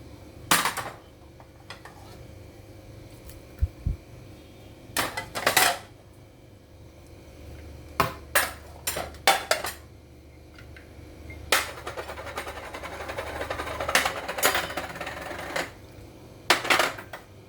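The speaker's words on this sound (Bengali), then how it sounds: "আমি এখন একে একে সব এই বোলের মধ্যে মিক্সড করে নিব" Metal utensils clink and scrape against a bowl while ingredients are mixed for a prawn tikka dish, with sharp intermittent knocks in short bursts over a quiet background and no talking.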